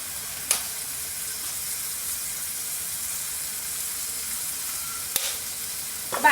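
Spices, salt and tomato frying in a pan, a steady close sizzle with a few sharp stirring scrapes and clinks over it.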